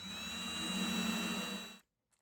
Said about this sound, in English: here I drill 2 holes